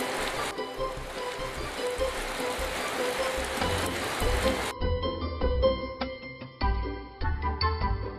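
Rain falls in a steady, soft hiss for the first half, then gives way to sparse tinkling, chiming notes.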